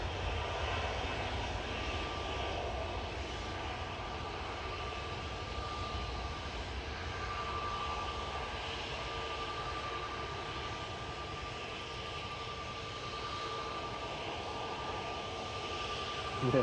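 An aircraft at Manchester Airport roars steadily and loudly for the whole stretch, a broad sustained engine rumble with no talk.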